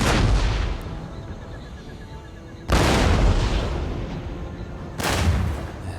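Booming artillery and musket volleys from an Empire: Total War battle, three heavy blasts each followed by a long rolling rumble and crackle, loud and close with no talking.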